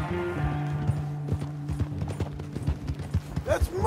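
Horse hooves clip-clop at a steady walking rhythm in Red Dead Redemption 2, close and distinct over game music and a drawn-out whinny near the end.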